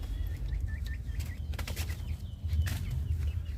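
A pet bird named Tutun beats its wings in a few short, flurried bursts, close by, over a steady low rumble, with no one speaking.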